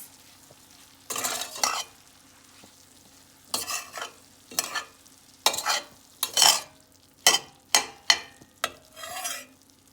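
Seasoned plantain lasagna filling with black pepper and salt being mixed in a pan: close, repeated scraping and stirring strokes in irregular bursts, with brief sizzling between them and no voices.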